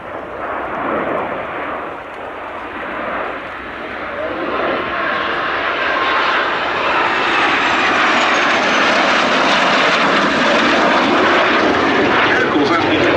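A Strikemaster jet aircraft with a Rolls-Royce Viper engine roars steadily overhead at Duxford airshow, a loud broadband rush of engine noise that swells slightly and holds throughout.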